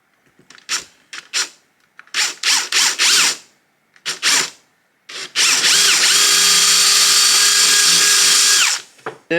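A power drill boring eye sockets into a carved camphor wood surface lure, starting in short close bursts of whine before one long sustained run, loud and alone.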